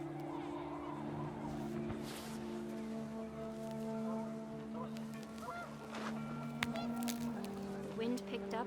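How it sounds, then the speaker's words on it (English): Panicked geese honk in the game What Remains of Edith Finch, a cluster of calls rising over a steady wind-like bed with tonal game music, brief and close before fading out. "The wind picked up, and panicked geese appeared and quickly went."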